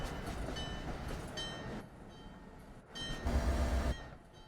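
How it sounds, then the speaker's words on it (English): An MBTA commuter rail train rolls into Back Bay Station, a steady rumbling wash of wheels and track noise with a louder, low heavy pass near the end. "As you can see, my train is pulling in."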